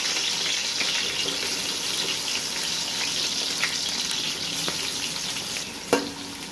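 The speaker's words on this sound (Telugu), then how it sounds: "మిక్స్ చేసుకొని గోల్డెన్ బ్రౌన్ కలర్ వచ్చేంత వరకు వేయించుకుందాం" Chopped onions sizzling and frying steadily in hot oil in a pan, a continuous close crackle with a brief stir knock near the end.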